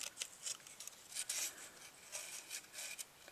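Work Sharp knife sharpener running a green belt against a knife blade, quiet, repeated short scraping strokes with irregular rhythm, close and faint, with no voices.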